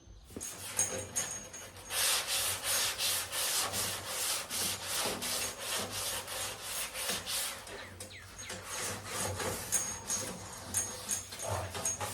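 Rhythmic rubbing strokes of 220-grit sandpaper scrape back and forth on a 1972 VW Super Beetle door, a regular series of close, gritty passes with a short pause partway through.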